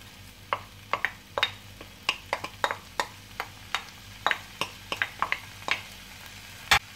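Ham pasta pearls with garlic and grated Comté are stirred in a pan, giving a string of soft scraping clicks in an uneven rhythm over a faint sizzle, quiet and close, with no voices.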